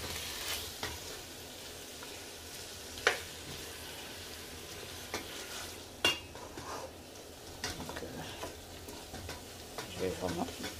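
Peeled tomatoes in their juice are stirred and beaten in a cooking pot, giving soft wet sloshing with scattered spoon clicks against the pot over a faint background.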